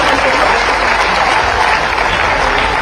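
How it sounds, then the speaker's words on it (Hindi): A crowd at a government event honouring the chief minister of Madhya Pradesh applauds loudly and steadily, with many hands clapping in a continuous dense roar throughout. "एक बार दोनों हाथ उठाकर माननीय मुख्यमंत्री जी का अभिनंदन करें, दोनों हाथ उठाकर ताली बजाकर।"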